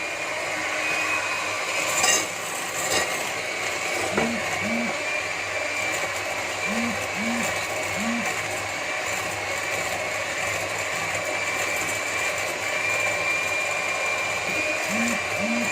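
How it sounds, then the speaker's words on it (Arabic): An electric hand mixer whips eggs with sugar for a birthday cake batter, giving a steady whirring, rattling drone that runs throughout with brief low thumps of the beaters against the bowl. "غادي نبدا نطرب حتى يضاعف ليا الحجم ديالو ويولي بيض."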